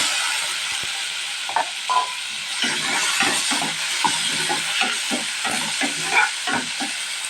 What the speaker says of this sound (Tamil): நல்லா காலிட்டு ஒரு தக்காளியை வெட்டி போட்டுக்கலாங்க